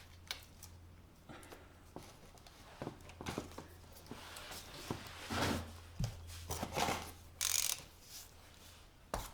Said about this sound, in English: Make sure that the ratchet is going the appropriate way to loosen things off.